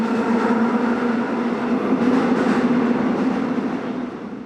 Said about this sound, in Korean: 하루 평균 84만 명 이상이 이용하는 서울 지하철 5호선. 열차 소리가 시끄럽게 들립니다.